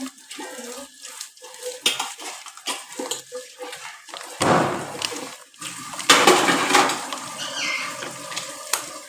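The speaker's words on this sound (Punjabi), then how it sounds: "ਮੇਰਾ ਤਾਂ ਜੀ ਕਰਦਾ ਮੈਂ ਭਾਂਡੇ ਧੋਈ ਜਾਵਾਂ" Dishes washed under a running tap, with scattered clinks of plates and cutlery at first, then heavier bursts of splashing water and clattering pots in the second half, close and moderately loud.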